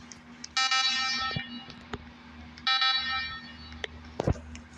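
An alarm sounds in the Roblox game Hotel Story: two loud, buzzing electronic bursts about two seconds apart, each lasting under a second, over a low background hum, with no voices.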